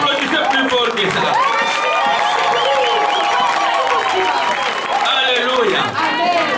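A church congregation claps and cheers loudly and continuously, with shouts and voices rising over the sustained applause throughout.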